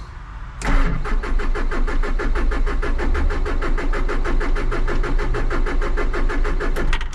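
A Takeuchi TL150 track loader's rebuilt diesel engine catches and runs hard at full throttle, a loud, rapid, even knocking thrum that holds steady close by for several seconds.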